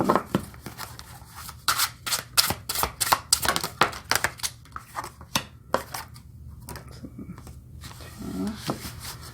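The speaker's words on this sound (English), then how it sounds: "Been dying to see how they shuffle. Let's try overhand first." Rapid papery slaps and flicks of tarot cards being overhand shuffled by hand, a steady run of crisp taps with a low background hum.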